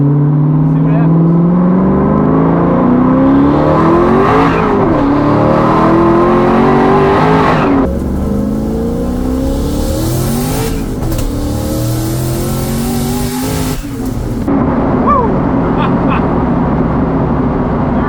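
A modified turbo V8 car with a Holley Ultra Low Ram intake and modified intercooler pulls hard in second gear, engine note climbing loud and close through a long pull, then backing off, with a voice talking over it.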